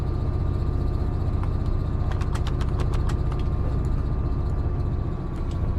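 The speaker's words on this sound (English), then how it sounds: "we have a diesel engine that powers an electric generator that will power the traction motors" An AP Class 66 diesel-electric locomotive idles with a steady, low, rumbling drone in Train Sim 2021. The sound continues without a break, and a few faint clicks occur midway.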